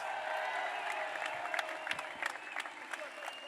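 Celebration crowd applauding the national championship Tennessee Volunteers baseball team, a steady broad wash of clapping with scattered louder claps and faint cheers throughout, moderately distant.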